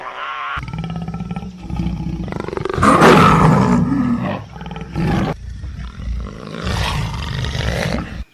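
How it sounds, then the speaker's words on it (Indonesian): A female jaguar lets out loud, angry roars and snarls, close and powerful, in several bursts with brief pauses between. "ada seekor jaguar betina menatap marah ke arahnya"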